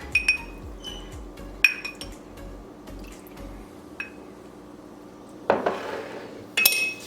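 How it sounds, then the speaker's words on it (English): Egg, vanilla, melted butter and milk are mixed in a mug. A spoon clinks and taps sharply against the sides in uneven bursts, separated by quiet gaps, followed by a brief liquid splash and more clinks, with no voices. "we are going to give this a nice mix"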